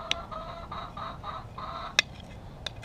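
A hen clucking softly while pushing out an egg, a series of low repeated clucks with a couple of sharper louder calls, close by in a quiet backyard setting.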